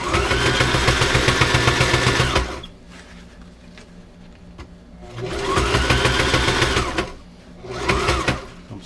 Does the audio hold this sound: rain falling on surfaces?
no